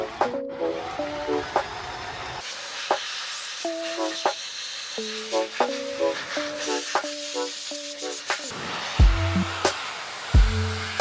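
A hair dryer blows a steady, loud whoosh onto a custom RC Sherp model. It starts a couple of seconds in and runs continuously, with tonal sounds and short thumps layered over it.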